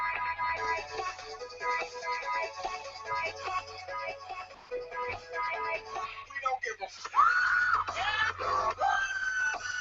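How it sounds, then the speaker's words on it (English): A woman's high wailing scream rises over the music of a song, a loud, sustained cry standing out near the end against layered instrumental and vocal backing. "There's the screaming woman right there."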